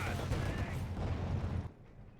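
Machine gun and rifle fire from Company of Heroes 2 crackles as dense rapid bursts of shots, loud for under two seconds before cutting off abruptly into near quiet.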